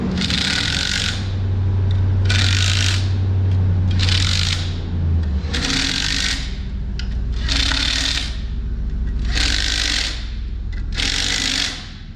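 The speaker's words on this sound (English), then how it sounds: "now I got my torque wrench torqued to my exact spec." A torque wrench ratchets while clutch bolts are tightened against a transmission, making a steady, regular series of clicking strokes over a continuous low mechanical hum.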